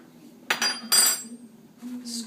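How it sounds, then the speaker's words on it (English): A metal spoon scraping avocado flesh into a mixing bowl gives two sharp clinks against the bowl close together, then a softer scrape, with a faint hum underneath. "I'm using a spoon to do this part."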